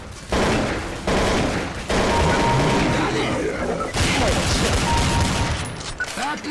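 Gunfire in Counter-Strike: Source, loud rapid bursts of automatic fire in several long strings separated by short pauses, with game effects mixed in.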